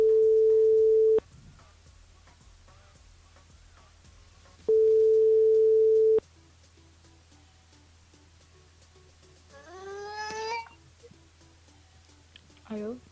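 Ringback tone on an outgoing telephone call: two long steady tones separated by a few seconds of quiet line hiss, followed by a short burst of muffled voice.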